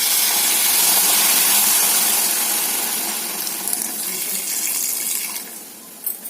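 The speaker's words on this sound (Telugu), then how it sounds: "ఇప్పుడైతే వాటర్ పోసేసుకోండి" Water pours from close range into a pan of ridge gourd and egg curry, making a loud, continuous rushing splash that tapers off near the end.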